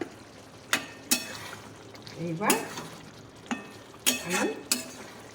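Chicken frying in a pan as garam masala is added, a spoon scraping and stirring in several distinct strokes over a soft sizzle, close by with quiet moments between.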